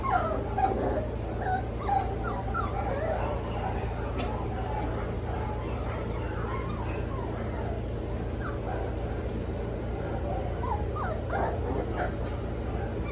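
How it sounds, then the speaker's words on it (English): Several dogs in outdoor kennel runs whimper, whine and yip almost nonstop, with occasional barks mixed in over a steady low hum. The cries sound moderately distant and overlap one another throughout. "Stirring up all those other dogs out there."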